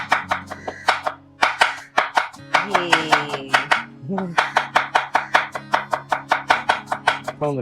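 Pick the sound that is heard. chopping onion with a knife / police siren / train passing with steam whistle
chopping onion with a knife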